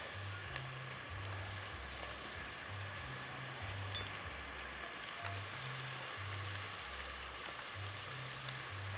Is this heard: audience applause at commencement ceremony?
no